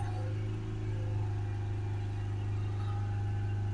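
A Ford Transit MK8 2.2 diesel with front-wheel drive and a DPF fault is held at about 3000 RPM. It makes a steady, even engine drone with a strong low hum, close and unchanging throughout.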